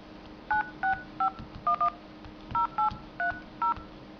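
Phone dialer keypad tones on a smartphone running iOS 8 style software, eleven short dual-tone beeps pressed at an uneven pace, each clear and distinct over a faint steady hum, with no talking.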